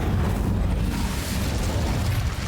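An Incendio fire spell cast in a video game gives a dense, loud rushing burst of fiery noise that stays steady and roaring for a couple of seconds.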